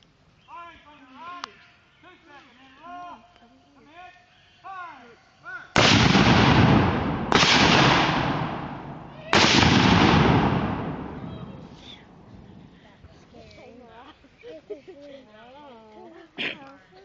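Civil War cannons fire at a battle reenactment, three loud booms in quick succession, each followed by a long rumbling decay, with a man calling out commands before and voices murmuring afterward.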